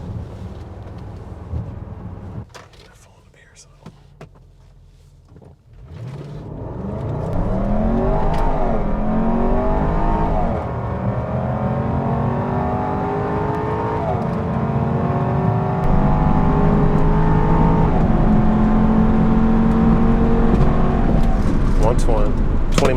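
A 2019 Range Rover Sport accelerates hard through a couple of corners, its engine note climbing and shifting through gears inside the cabin, loud and steady, with someone talking briefly over wind noise early on.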